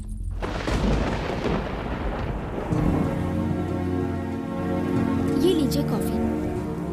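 Steady rain falling with low thunder rumbling underneath, a continuous wash that swells and eases, while a person speaks briefly over it.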